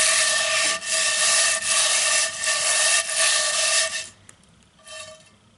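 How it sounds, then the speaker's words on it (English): A stiff-bristled Winco cutting board brush scrubs the bottom of a pan in circles, making loud, close, hissing rubbing strokes in pulsing waves before stopping, followed by one brief final scrub; no voices. "What I'm going to do is I'm going to go in a circle and get this nice and scrubbed."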